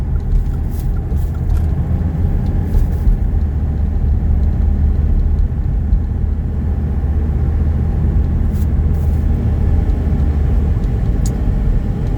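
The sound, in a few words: 1985 Mercedes 300TD wagon engine accelerating in a 0 to 60 test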